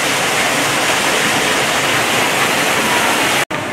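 Steady, dense roar of a waterfall heard from under a boardwalk at a zoo and botanic garden in Evansville, Indiana, loud and continuous, with a brief dropout near the end.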